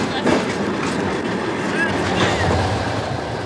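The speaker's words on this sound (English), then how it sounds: "better get on the train" Passenger train rolling on rails, a loud steady rumble with wheel clatter and a brief metallic squeal, continuous throughout.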